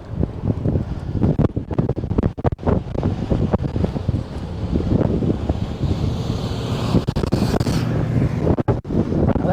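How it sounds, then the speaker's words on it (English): Strong wind buffets the microphone during a bike ride on a sunny day in Missouri, a loud, continuous rushing roar with gusty swells and brief dropouts, with no voices heard. "That wind's really going."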